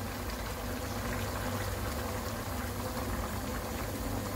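Hot water poured over vegetables in a pot, a continuous dense rushing splash that stays loud and even from start to finish.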